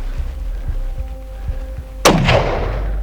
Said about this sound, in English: just shoot, just keep shooting